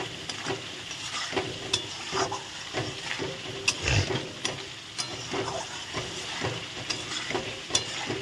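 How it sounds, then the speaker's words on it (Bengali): A spice paste with Kashmiri chili powder fries in oil with a continuous close sizzle, broken by rhythmic scrapes and taps of a spoon stirring it in the pan. "দেখো মশলাটা ভালো করে আমার কষিয়ে নেওয়া হয়ে গেছে"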